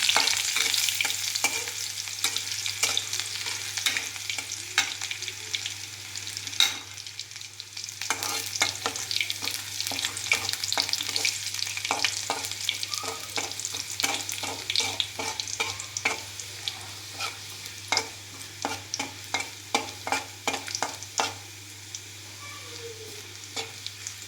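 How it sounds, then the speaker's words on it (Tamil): Garlic fries golden in hot oil in a pan, giving a continuous close sizzle broken by frequent sharp clicks and scrapes as it is stirred, over a faint steady hum, with no speech. "பூண்டு சேர்க்கணும். பொன்னிறமாக வறுக்கணும்."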